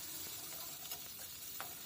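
Chopped onion with crushed ginger and garlic fries in a pan, giving a steady close sizzle with a few soft scrapes of stirring over the short stretch.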